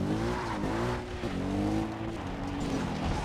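A motorcycle engine in the Far Cry 3 video game runs steadily with a droning, harmonic tone that dips and climbs slightly as the throttle shifts, loud and continuous throughout.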